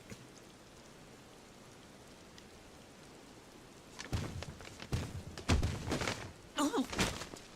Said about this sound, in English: Yes, please, it's raining.